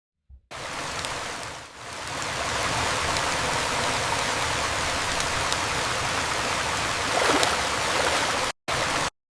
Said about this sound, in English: The water is moving, ultra realistic.